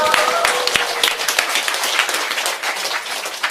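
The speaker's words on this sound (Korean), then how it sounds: "오늘 또 감사의 박수 올려주십시오" An audience at a lecture hall bursts into dense, sustained applause, with many hands clapping at once and no voices heard over it.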